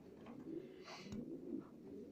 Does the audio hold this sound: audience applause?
no